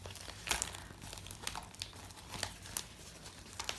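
A small fabric child's bag being turned right side out, giving a run of soft crinkling and rustling handling noises, close and fairly quiet, with no speech.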